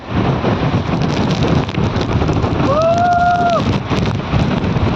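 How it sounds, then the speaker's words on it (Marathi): Strong gusting wind roars continuously into a mobile phone microphone outdoors in the Sahyadri hills, a loud, steady rumble that buries everything else, with a brief faint whistle partway through. "तुम्ही पाहता अशा बरेच तुफान वारा चालू आहे, इथे हवा चालू आहे, त्यामुळे आवाज येत नाही."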